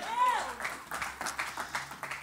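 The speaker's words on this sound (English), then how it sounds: "give him a hand clap praise" Audience hand clapping in praise at a church conference, a steady burst of applause rising over a sustained shouted voice and crowd noise, with a regular clapping rhythm throughout.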